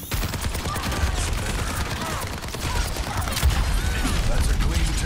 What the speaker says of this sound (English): Why do you think I'm only shooting the Genji?